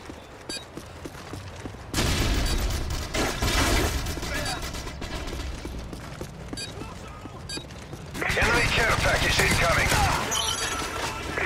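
Frag grenade going off in Call of Duty MW3 during a Kill Confirmed match on Wii: loud booming blasts cut in abruptly amid bursts of gunfire and game voice callouts, with a second heavy surge of noise later.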